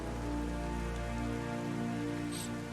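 Rain pattering steadily in the open world of The Witcher 3, a continuous close hiss of falling drops layered over a low, sustained musical drone, with no speech.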